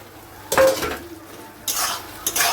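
Maggi manchurian stirred in a pan, with a few loud metallic scrapes and clanks of a spoon against the pan over a faint sizzle, heard close and in short bursts.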